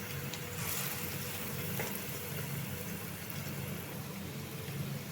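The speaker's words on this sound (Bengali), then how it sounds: "বাকিগুলোকেও আমি এইভাবে ভেজে নেব" Fish roe pakoras frying in hot oil, a faint, steady sizzle and crackle that runs unbroken and fairly quiet throughout.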